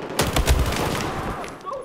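Rapid bursts of gunfire from Battlefield 4 multiplayer, an AR-160 among the weapons, crackle in a dense cluster of shots over about a second and then fade, with a voice talking over it.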